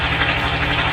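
A 2020 Honda Beat scooter's engine idles smoothly, a steady close hum for about a second with no talk.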